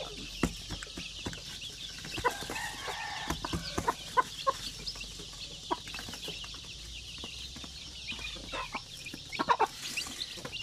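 A mother hen with around thirteen chicks, clucking in short repeated calls over soft chick peeps and scattered pecking taps, moderately close in a quiet farmyard.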